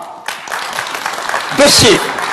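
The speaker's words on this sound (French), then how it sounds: "Applaudissez-moi!" A lecture audience breaks into a short burst of applause while a voice talks over the start, with clapping swelling near the end.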